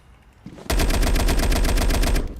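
Rapid automatic gunfire from a tactical first-person shooter game erupts after a brief quiet lead-in, a loud, evenly spaced burst of shots sustained for nearly two seconds.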